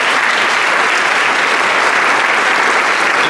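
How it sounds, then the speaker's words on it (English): Loud, dense applause from a school senior awards ceremony audience for faculty presenters, a continuous wash of close clapping that holds steady from start to finish. "Let's give them a round of applause."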